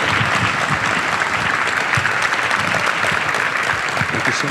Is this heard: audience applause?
yes